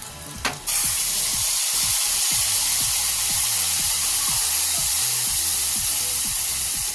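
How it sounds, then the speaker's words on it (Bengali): Ground spice paste for tel koi fish curry hits hot oil in a pan, starting with a sharp splash and then settling into a loud, steady, hissing sizzle with faint stirring, close by and without speech. "এই মশলাটা তেলের মধ্যে দিয়ে দিচ্ছি"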